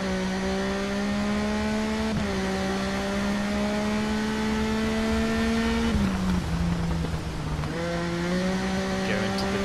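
A BMW S1000RR superbike in the TT Isle of Man racing game on Xbox One X holds a loud, steady high engine whine with sharp pitch drops at gear changes and a dip under braking, no talking.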